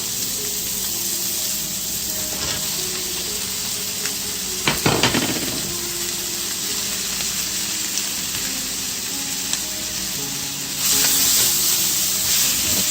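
Summer vegetables go into a hot pan with cod, giving a steady, close sizzle with a brief clatter of utensils stirring partway through.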